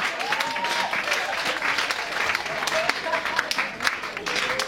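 A church congregation breaks into sustained applause, a dense, steady patter of many hands clapping close by for the full length, with a voice speaking over it.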